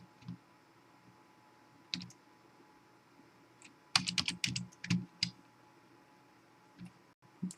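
Rapid keyboard shortcut presses and mouse clicks on a computer, sparse single clicks early, then a dense cluster of quick, close, crisp taps in the middle, followed by a few isolated clicks; no talking.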